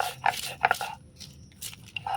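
Roasted spices are crushed by hand on a stone slab with a grinding stone, giving a few short, close gritty crunches and scrapes in an uneven rhythm.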